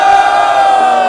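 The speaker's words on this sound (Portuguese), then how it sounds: "Barulho para as rimas de PJ e Jacão" A crowd at a Brazilian freestyle rap battle, the Batalha da Aldeia, roars and cheers in a loud, sustained wash of voices that carries through the whole short moment without a break.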